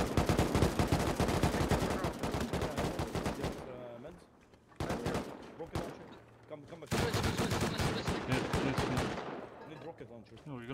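Gunfire in Rust, with rapid sustained automatic bursts, close and loud, broken by two short pauses before the firing resumes and then fades; a voice speaks over it.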